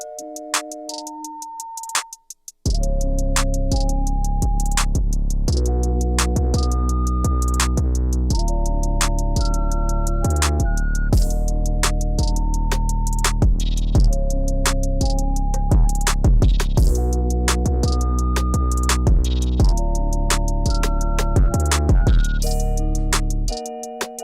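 A hip-hop beat with a heavy deep 808 bass and steady drums under repeating melodic synth notes, loud and continuous after a brief sparse intro.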